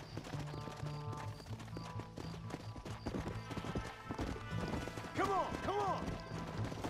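In the Red Dead Redemption video game, a horse's hooves beat a steady, prominent clip-clop rhythm, with a brief horse whinny near the end and a voice speaking at times over the game sounds.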